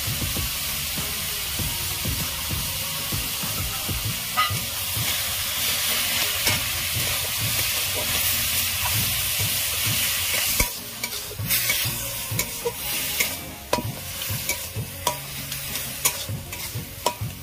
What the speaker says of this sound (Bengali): এইভাবে ভালো করে আমি নাড়াচাড়া করব।